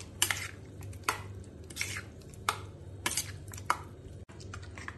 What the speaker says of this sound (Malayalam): ഇനി ഇതെല്ലാം കൂടി നല്ലോണം ഇളക്കി മിക്സ് ചെയ്യാം